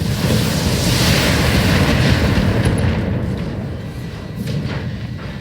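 A heavy weapon shot and its impact in the Battletech video game, a loud booming rumble that swells and slowly fades, followed by a second muffled thump.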